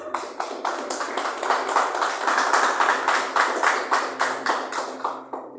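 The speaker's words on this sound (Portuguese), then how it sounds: "Palmas para Ele." A church congregation claps together in a steady, rhythmic unison beat, building slightly and holding an even tempo, with faint background tones beneath.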